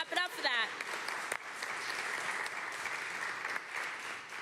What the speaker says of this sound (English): gotta clap it up for that